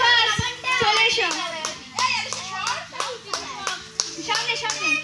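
A picnic crowd claps for children after a game: sharp, scattered handclaps that come in bursts, mixed with children's shouts and excited voices talking over them.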